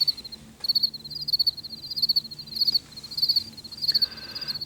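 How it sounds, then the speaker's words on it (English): Crickets chirp steadily and loudly in a chorus of rapid pulses, with no other sounds over them. "All we hear is crickets."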